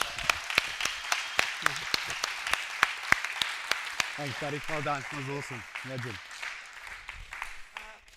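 Sparse, steady claps from a small audience at a motivational goal-setting session, sounding like a handful of people clapping nearby while someone talks over them and praises someone.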